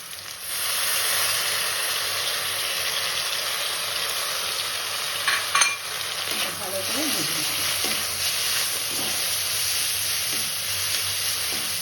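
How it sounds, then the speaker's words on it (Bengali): Onion sizzles steadily in hot oil in a pan for chicken tehari, a constant close frying hiss with occasional stirring scrapes and clinks over it. "পেঁয়াজটা একটু ভেজে নেবো লাল করে ভাজবো না"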